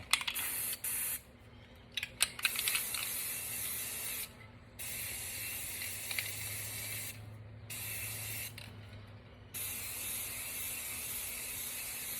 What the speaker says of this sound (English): I'm gonna spray it how I normally do to show you guys how I get the even coverage